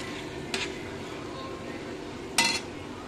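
Pav bhaji is reheated with butter on a tawa in a home kitchen, and two sharp metallic clinks of a utensil against the pan stand out over a low, steady background.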